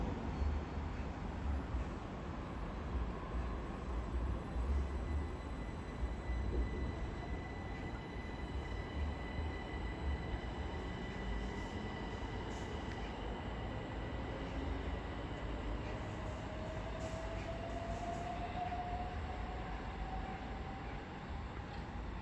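A Southeastern Class 375 electric multiple unit pulls out of Bromley South station on the South Eastern Main Line, a steady rumble with rising motor whine building over about twenty seconds, fairly close with no talk.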